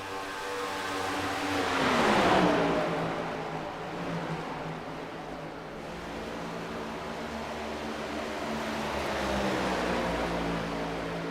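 Race car engines drone in an iRacing Cup Series race at Auto Club Speedway, a steady harmonic whine with one car sweeping past and fading before the pack hum swells again, fairly quiet throughout.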